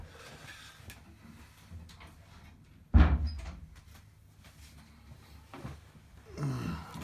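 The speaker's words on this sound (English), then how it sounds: "let's just shut this door a little bit" An interior door is pushed shut in a fly-tying room, giving one clear, fairly loud thud with a short rattle that fades into quiet room tone.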